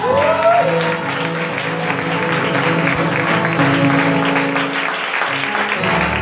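Worship congregation cheering and applauding for the Lord Jesus during a fasting and prayer service: sustained, dense crowd clapping and shouts filling the room steadily throughout, with a voice briefly rising over it.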